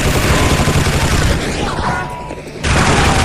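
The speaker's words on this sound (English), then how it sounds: "Who the hell is shooting me now?" Rapid bursts of gunfire from weapons in the video game Gore, loud and dense throughout, with a brief lull before the shooting surges back in.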